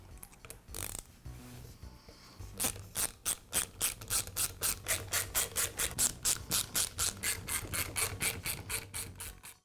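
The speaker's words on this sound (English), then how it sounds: "I'll begin by removing the cap from the nail gun." A DeWALT finish nailer has its cap taken off, giving a steady run of sharp, evenly spaced mechanical clicks like a ratchet turning, close and fairly loud, after a few scattered clicks and rustles.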